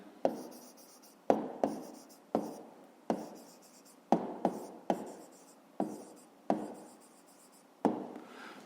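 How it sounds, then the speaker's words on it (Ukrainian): Hand writing of an answer to a fifth-grade maths exercise, a series of about twelve crisp close scratchy strokes, each sharp onset fading quickly, irregularly spaced, with no talking. "зараз записуємо відповідь, пишемо відповідь"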